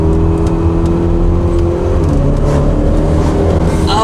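Hybrid-turbo 400 hp Honda Accord sedan cornering at speed, a loud steady engine drone with humming tones that shift pitch partway through, close and continuous, no talking.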